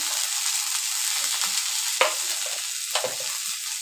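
Grated ginger paste and turmeric powder fry in a hot pan, giving a steady bright sizzle with two sharp stirring scrapes standing out near the end.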